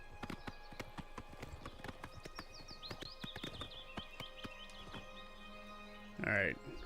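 A horse in Oblivion Remastered clip-clops with rapid, steady hoofbeats, then stops as a short neigh sounds near the end, with someone talking over it.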